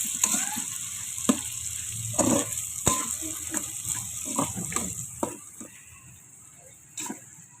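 Sisig with plenty of white onions sizzling in a pan, with a constant hiss and scattered sharp scrapes and clacks from stirring; moderately quiet, with no voices.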